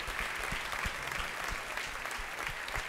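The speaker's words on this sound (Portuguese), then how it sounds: "Erga um aplauso ao Senhor." A church congregation claps together at the close of a service, a dense, steady burst of applause with no voices rising above it.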